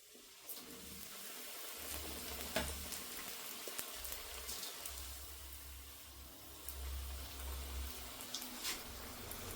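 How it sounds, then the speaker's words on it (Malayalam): Chicken samosas, briefly frozen beforehand, deep-fry in hot oil with a faint, continuous bubbling sizzle and scattered small crackles and pops, with a low rumble underneath. "അപ്പോൾ നമ്മുടെ എണ്ണ ചൂടായിട്ടുണ്ട്. നമുക്കിത് ഓരോന്നായിട്ടിട്ട് പൊരിച്ചെടുക്കാം."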